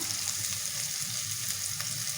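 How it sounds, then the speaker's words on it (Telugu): Tempering spices crackle and sizzle steadily in hot oil for a dal with drumsticks, a continuous close frying hiss with small pops throughout. "తాలింపు వేస్తున్నా"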